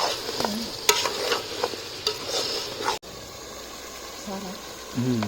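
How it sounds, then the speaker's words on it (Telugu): Chicken curry frying in oil in a pot, a steady close sizzle broken by sharp scraping stirs, with brief voice-like tones near the end. "ముందుగా అలా కూరను మంచిగా నూనెలనే ఫ్రై చేయాలి"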